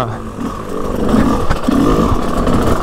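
A GasGas 125 motorcycle engine idles and pulls at low revs off-road, a steady mid-pitched rumble with slight rises, heard close throughout.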